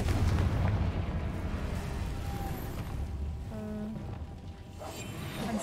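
A Confringo blasting spell in Hogwarts Legacy goes off as a deep, rumbling explosion with low booming energy that rolls on for several seconds, close and heavy, with crackling debris layered over it.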